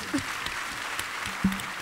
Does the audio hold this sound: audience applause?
yes